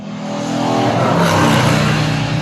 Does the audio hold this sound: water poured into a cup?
no